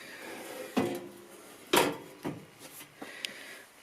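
Drawers in an RV slide and bump shut several times, a few sharp wooden knocks and rattles spaced across a few seconds in a quiet interior.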